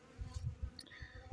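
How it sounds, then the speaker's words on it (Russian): Honeybees buzzing in an apiary hive in early spring, a close, soft, steady hum with brief louder passes as single bees move near, heard alone without voices. "И пчелы побежали к теплу."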